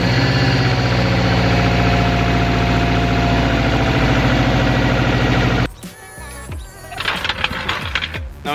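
A Subaru WRX engine with aftermarket headers runs steadily at a low rumbling idle, loud and close, then cuts to quieter clattering mechanical noises toward the end.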